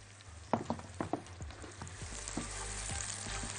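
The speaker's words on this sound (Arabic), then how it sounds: "ونقلب البصل" Onions frying in a pan while being stirred, with scattered scraping and clinking hits over a steady low sizzle.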